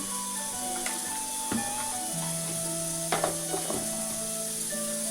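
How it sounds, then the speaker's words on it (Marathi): Cumin seeds, with mustard seeds already added, crackle in hot oil for a Marathi-style eggplant bhaji, making a steady close sizzle with a few sharp pops and spatters. "पहिले तेल गरम झालं आहे. थोडं जिरं घालून टाकू."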